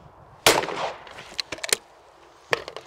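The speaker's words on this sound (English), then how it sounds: "I'm going to mount my gun there, pull." A shotgun fires one sharp, loud blast at a rabbit clay target outdoors, followed by scattered smaller cracks and a second fainter report a couple of seconds later.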